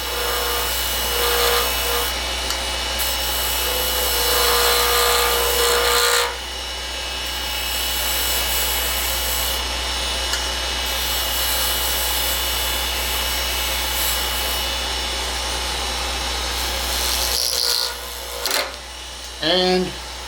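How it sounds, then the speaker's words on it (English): A wood lathe spins an Alumilite pen blank while a small skew chisel trues the end to the bushing, a steady scraping, rubbing cut over a constant motor hum, with a short pause partway through. "then I'm going to true up the end of my bushing, or the end of my blank to the bushing. And for me, I like to use a small skew chisel."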